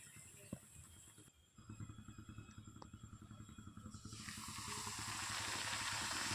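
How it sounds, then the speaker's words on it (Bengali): Luchi, a puffed Bengali flatbread, deep-frying in hot oil, a steady sizzling hiss that swells and brightens after a few seconds over a low background rumble. "এবার আমি লুচিটাকে ভেজে নেব"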